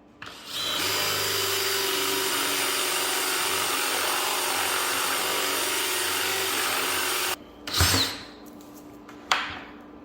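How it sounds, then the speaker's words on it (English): A power drill on its highest setting whines loudly and steadily as it bores a hole into wood for several seconds, then stops, followed by a couple of brief knocks. "I have my drill on its highest setting, and then we're just gonna make a hole"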